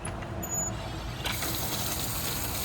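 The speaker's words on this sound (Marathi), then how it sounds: "हे दाबलं की ही लिव्हर फक्त पुढे दाबली की पाणी येते एकदम प्रेशरने." Drinking water gushing under pressure from a lever-pressed tap at a parking area, a steady rushing flow with a brief hiss near the middle.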